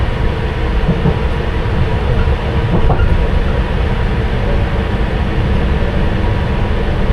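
A London Underground Piccadilly Line train, heard from the rear cab, runs loud and steady with a broad rumble and faint clicks, braking for a 25 mph limit on a rough section of track.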